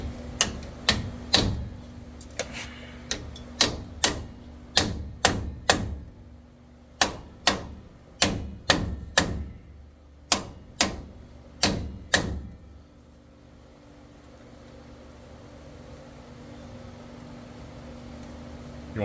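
Bearing race being hammered into a Dodge D100 wheel, heard as about twenty sharp, ringing metallic strikes in uneven bursts, close and loud, followed by a quiet stretch of low room noise.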